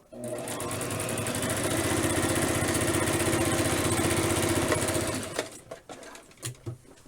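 A sewing machine runs a steady straight stitch, about a quarter inch in, on a Barbie doll dress for about five seconds, then stops, followed by a few faint handling knocks.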